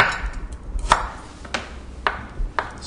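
A kitchen knife chops shallots on a cutting board, giving four separate, sharp taps spaced about half a second apart over a low background hum, close by with no talk.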